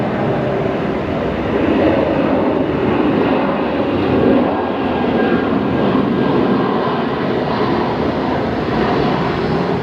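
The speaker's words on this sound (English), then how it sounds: "there is a Jetstar 754 service touching down there in from Launceston down in Tassie" A Jetstar airliner touches down at Brisbane Airport, its loud, sustained broadband engine roar holding steady throughout with no other sounds standing out.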